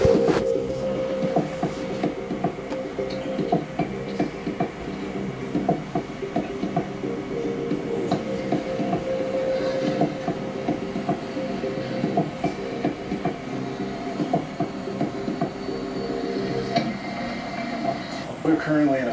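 A freight train rolls slowly through a train yard in Texas, its steady rumble and metallic clatter continuing at an even level throughout, with faint voices mixed in.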